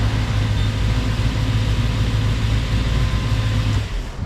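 A twin-turbo Camaro idles loud and close with a deep, steady rumble and an even low throb that holds for about four seconds, then cuts off sharply as the engine is switched off.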